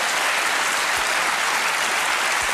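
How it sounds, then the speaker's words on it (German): A television studio audience at a German comedy news show claps in a dense, steady burst of applause that fills the room from start to finish. "Es ist wirklich schlimm, dass Sie da klatschen."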